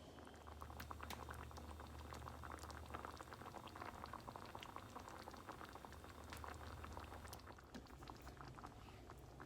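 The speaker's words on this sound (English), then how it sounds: "I'm just gonna let that simmer for a few minutes." Stewed tomatoes simmer in a pot with a dense, continuous bubbling and popping, steady and fairly faint throughout, with no voices.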